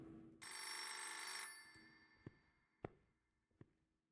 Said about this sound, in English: I simply cannot stand a ringing phone